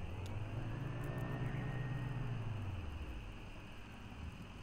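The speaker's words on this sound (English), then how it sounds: "The line of cars extends down the road in a late-night traffic jam." A steady low rumble of late-night traffic-jam cars in the video game Kentucky Route Zero, with engine drone rising and fading as vehicles pass.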